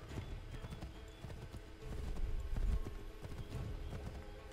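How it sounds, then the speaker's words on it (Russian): A horse gallops in the video game Assassin's Creed 3, with steady, rapid hoofbeats thudding close and continuously over the whole stretch, with no talking heard. "Не, ребята, эта лошадь быстрее не скачет."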